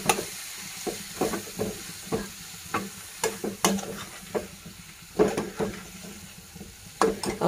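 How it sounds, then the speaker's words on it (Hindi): Spinach is stirred into a spiced lotus root vegetable mix in a pan, with repeated scraping strokes of a spoon and a soft sizzle underneath, close and fairly quiet. "अब ये पालक को हम अच्छे से इसमें मिक्स करेंगे।"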